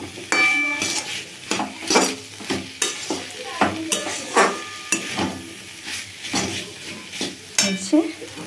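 Food frying in a pan is stirred with a metal utensil, giving repeated scraping clinks and taps in an uneven rhythm over a soft, steady sizzle, all close by.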